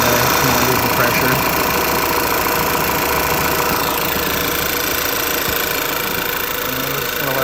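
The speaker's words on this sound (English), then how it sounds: "We're gonna let this idle and get up to temp" A 2013 VW Tiguan engine idles steadily at operating warm-up, a continuous mid-pitched running drone with a faint knocking texture throughout, close and loud.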